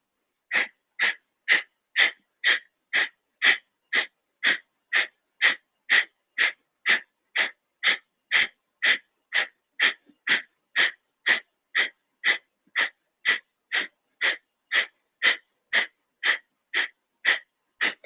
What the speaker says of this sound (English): Breath of fire, quick exhales when the belly is going to pump back towards the spine.